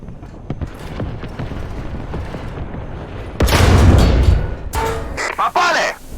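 A heavy tank cannon blast in the video game War Thunder booms out, followed by rumbling, mechanical clanks and whirring, with a voice talking briefly over the noise.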